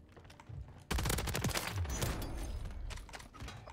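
A video game firefight breaks out in sudden, loud bursts of rapid gunfire after a quieter opening, and the dense overlapping shots continue for a few seconds.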